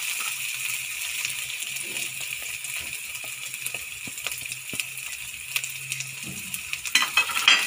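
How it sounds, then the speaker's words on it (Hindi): Spices frying lightly with ginger garlic paste in a pan for steamed cauliflower give a continuous close sizzle, broken by repeated clicks and scrapes of a spoon stirring, which grow busier toward the end. "स्पाइस भी हल्के से फ्राई करने हैं।"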